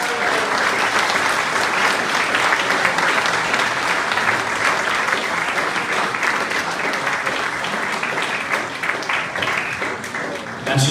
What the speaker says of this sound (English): Would you please give a big round of applause to the winner of this handball award,